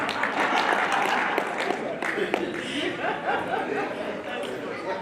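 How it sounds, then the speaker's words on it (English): Applause from a conference audience, a dense wash of clapping mixed with chatter and scattered chuckles and laughter, moderately loud and steady throughout. "Please, a round of applause for yourself."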